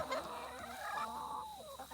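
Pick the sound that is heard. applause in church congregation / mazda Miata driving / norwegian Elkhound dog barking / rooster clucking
rooster clucking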